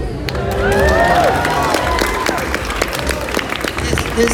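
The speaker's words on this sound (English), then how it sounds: "everybody cheer me" Convention panel audience cheering and applauding loudly, a steady wash of clapping and shouts with a voice rising briefly above the crowd.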